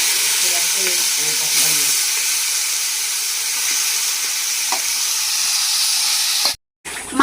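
Marinated mutton sizzles in a hot pan with whole spices, a steady bright hiss running continuously, with a few clinks and stirring scrapes early on before a brief cut near the end.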